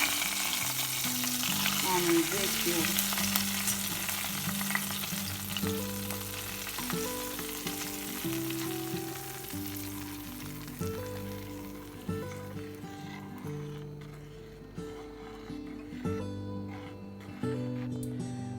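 Oil heated in a pan for a yogurt and potato dish gives a loud, continuous crackling sizzle that starts bright and dense and gradually settles into softer popping, close up with no voices.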